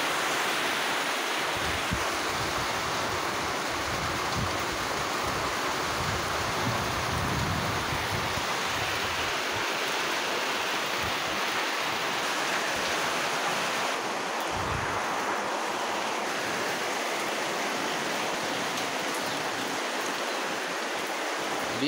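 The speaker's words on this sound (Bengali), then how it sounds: "বৃষ্টি সব জায়গায় বৃষ্টি, সেই বাতাস, বাতাস আর বৃষ্টি এক লগে" Heavy rain lashes down while strong wind blows. A dense, continuous roar fills the whole stretch, with gusty low buffeting now and then and no talking.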